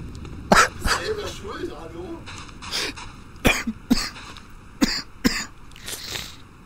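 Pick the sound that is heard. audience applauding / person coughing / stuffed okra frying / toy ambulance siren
person coughing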